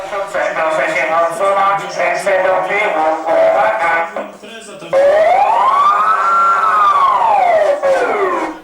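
A police siren on a Polonez police car wails loudly and close by, rising and falling in a long sweeping tone after a burst of voices and noise.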